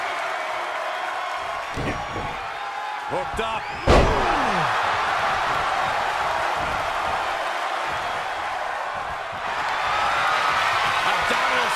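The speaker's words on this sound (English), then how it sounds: "The sound of this crowd is deafening" A wrestling crowd roars in a continuous, loud wash of cheering throughout, with a sharp slam near the start and a commentator talking over it.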